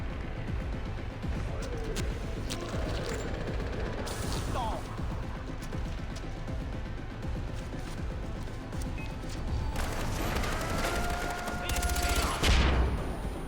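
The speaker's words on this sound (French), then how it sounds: "On a mitrailleuse lourde." A heavy machine gun fires in a video game firefight, with dense rapid bursts and mechanical clatter that build louder toward the end, while a player talks.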